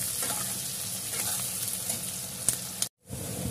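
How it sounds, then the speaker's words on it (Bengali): Onions sizzle steadily in a hot pan with salt, making a close, continuous frying crackle with small pops, which cuts off abruptly near the end. "পেঁয়াজগুলো আমার ভাজা ভাজা হয়ে গেছে।"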